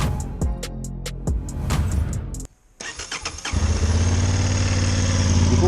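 A 2025 Honda CB750 Hornet motorcycle starts up after a few cranking attempts, then settles into a steady, close, loud idle rumble.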